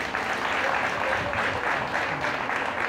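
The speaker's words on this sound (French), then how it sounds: "Applaudissons-nous." An audience applauding at a national day celebration, a dense, steady patter of many hands clapping together at close range for the whole stretch, with no voices rising above it.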